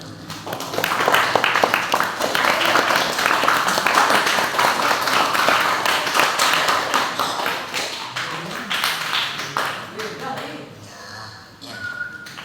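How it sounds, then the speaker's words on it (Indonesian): Classmates in a school classroom give sustained applause, a dense round of clapping that starts strong, holds, then thins out toward the end. "kita kasih tepuk tangan untuk teman-teman kita"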